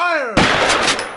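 A single loud gunshot in a zombie forest comic scene, a sharp close blast with a short decaying tail, preceded by a brief rising tonal sound.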